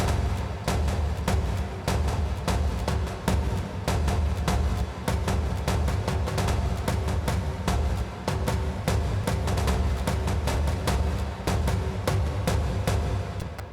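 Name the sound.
orchestral drum loop pattern played on Ableton Push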